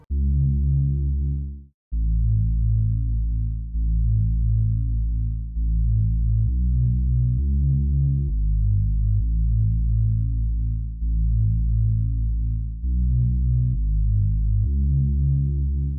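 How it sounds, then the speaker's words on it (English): A deep, buzzy riser synth bass line from a hip-hop beat plays a steady pattern of sustained low notes, loud and alone, with a brief gap near the start. "I decided to use the riser bass from Produced by Jack's drum collection kit"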